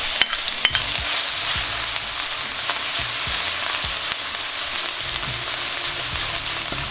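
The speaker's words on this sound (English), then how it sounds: "Grab yourself a bigger wok when it's nice and smoking hot. With the oil, with your garlic," Garlic sizzles and fries steadily in hot, smoking oil in a large wok for a home-cooked chicken chow mein, a loud continuous crackle with a few clinks of stirring and no talking.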